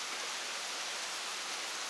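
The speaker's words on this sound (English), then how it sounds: "And it's raining, of course." Steady rain falls outside a hotel balcony in the jungle in Borneo, a dense continuous hiss of drops with no other sounds, moderately loud and unbroken.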